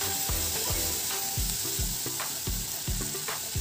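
Roughly chopped medium tomatoes sizzle steadily in a hot frying pan while a spoon stirs them in regular strokes, about two or three scrapes per second, with no voices.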